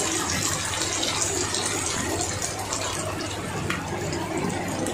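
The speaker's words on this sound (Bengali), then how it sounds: "এখন দিয়ে দেবে এতে রান্নার জন্য পানি," Water is poured into a cooking pot, giving a continuous broadband rush and splash that stays fairly even and close throughout, with no speech.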